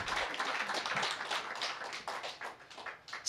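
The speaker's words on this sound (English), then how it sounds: "So if we could give him a round of applause." An audience at a talk about the Young Lords breaks into brief, moderately distant applause, a dense patter of hand claps over a few seconds.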